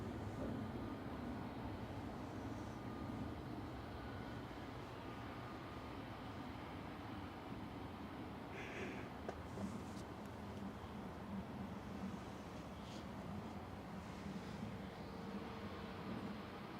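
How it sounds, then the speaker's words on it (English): An Etihad airliner taxiing out at Manchester Airport, a steady low rumble of engines holding at a constant level throughout with a few faint higher sounds drifting in and out. "Etihad's taxiing out now."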